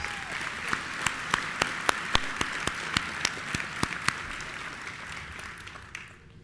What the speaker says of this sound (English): Join me in giving him a round of applause, please.